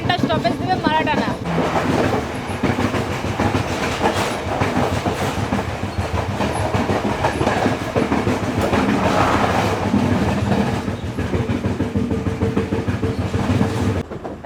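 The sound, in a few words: Intercity Express train leaving Gampaha railway station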